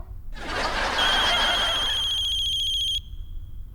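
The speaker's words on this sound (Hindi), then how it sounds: "ये हो सकता है उसी मास्कमैन का कॉल है" A phone rings with an incoming call, a bright electronic ringtone with steady tonal pulses that starts abruptly, plays for under three seconds and cuts off, heard alone at close range in an indoor scene.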